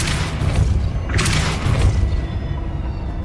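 A Depulso force spell cast in Hogwarts Legacy, heard as a loud booming burst with a deep thud, a second swell partway through, then a fading rumble.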